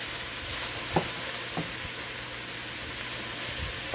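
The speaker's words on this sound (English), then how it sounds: "I'm gonna add the bean sprout in now" Bean sprouts stir-fry with shrimp fried rice in a hot pan, giving a constant broad sizzle and hiss with a few soft stirring knocks, close and without talk.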